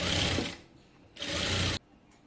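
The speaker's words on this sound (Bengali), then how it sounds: "জয়েন্টে কিন্তু অবশ্যই ডাবল সেলাই দিতে হবে।" A sewing machine stitches a double seam on a sleeve joint in two short loud runs, each about half a second long, with a quiet pause between and no talk.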